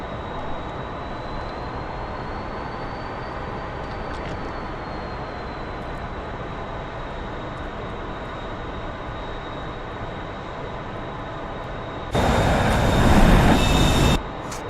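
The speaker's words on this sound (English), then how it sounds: "Now we're gonna do a quick taxi over to the catapult and launch." An F-14B jet taxiing to the catapult on a carrier deck in DCS, a steady engine whine and rumble with a high turbine tone, ending in a sudden loud roaring surge.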